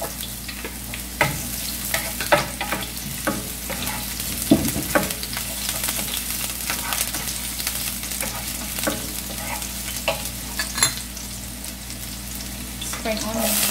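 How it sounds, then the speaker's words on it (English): Garlic and onion fry in a pan for a sardine sisig dish, a constant sizzle punctuated by repeated scraping and clinking stirs at close range. "Lagay natin yung ating bawang, yung sibuya,"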